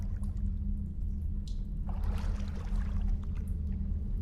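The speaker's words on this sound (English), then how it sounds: "I love water sounds, so this is kind of tranquil" Water in the horror video game Madison: a soft, low flowing wash with a brief pouring or trickling surge midway, faint and steady under a constant low hum, with no talking.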